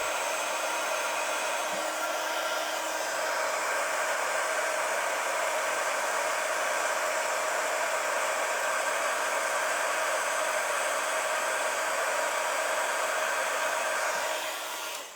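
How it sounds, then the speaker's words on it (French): A heat gun warms embossing powder on a papercraft piece, giving a steady close blowing hiss that runs unbroken for about fifteen seconds before cutting off at the end. "Je prends mon pistolet à chauffer"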